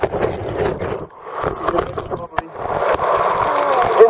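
Water gushing and splashing up in a bubbling basin at Fari Falls, a loud churning spray that drops briefly then surges again, with people talking over it.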